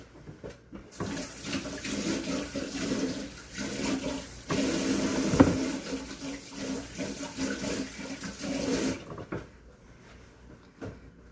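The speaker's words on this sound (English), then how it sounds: "I need to wash my hands." Hands are washed under a running tap at a sink, a steady splashing water stream lasting several seconds with brief clatters, no talking.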